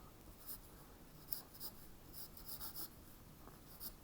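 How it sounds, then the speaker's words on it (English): A pencil scratches across paper while sketching a 3D lap joint for woodworking, soft intermittent strokes in short bursts, close and quiet over a faint background hiss. "take a pencil and we're simply just going to draw a sort of 3D version of a lap joint"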